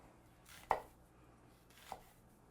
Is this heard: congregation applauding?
no